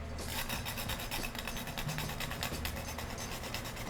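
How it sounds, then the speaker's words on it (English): A tonka bean is rubbed over a grater in fast, even strokes, producing a close, steady rasping that continues without pause throughout. "grate the tonka bean"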